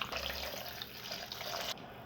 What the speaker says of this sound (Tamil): இப்போ அதே கடாயில் பெரிய டம்ளரில் 2 டம்ளர் அளவுக்கு தண்ணி வச்சுக்கலாங்க.